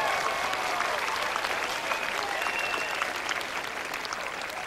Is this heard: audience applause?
yes